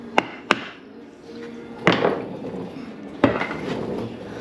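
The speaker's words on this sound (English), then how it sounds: "rubber mallet, don't have one, should have one, but piece of wood and a hammer," Hammer striking a piece of wood used in place of a rubber mallet while fitting pistons on a 1984 Harley-Davidson FLT Tour Glide: two quick sharp taps, then two more isolated knocks spaced apart, close up in a quiet workshop.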